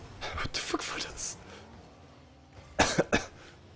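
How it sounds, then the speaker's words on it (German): A person coughs in several harsh bursts, a cluster near the start and another quick series of sharp coughs later, close and loud over a quiet room. "Husten geht auf den Sack so langsam."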